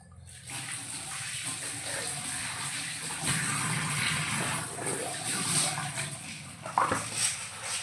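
Water runs steadily from a kitchen tap while bottles are scrubbed and rinsed. The close, continuous gush shifts a little as the bottles are handled and swells near the end.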